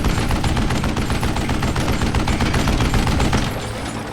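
Dense, continuous rapid gunfire in Call of Juarez: Gunslinger, a loud unbroken barrage of shots for several seconds that thins slightly at the end.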